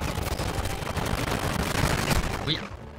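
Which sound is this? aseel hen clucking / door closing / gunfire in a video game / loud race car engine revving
gunfire in a video game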